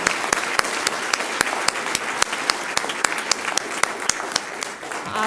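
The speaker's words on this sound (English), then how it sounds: "How about just one more big round of applause for these students?" Audience applause for students at a school district governing board meeting: a steady wash of many hands clapping, with a few louder individual claps standing out in a regular rhythm, moderately close and without talk.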